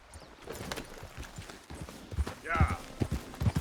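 A horse's hooves clip-clop along in Red Dead Redemption 2, the steady footfalls heard under a person talking, with a brief whinny partway through.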